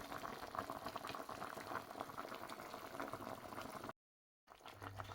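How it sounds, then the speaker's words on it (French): Vegetables simmering in a covered pot with water and palm oil, a soft continuous bubbling boil heard close and faint, with a brief gap of silence near the end. "Je vais encore recouvrir et laisser cuire les légumes."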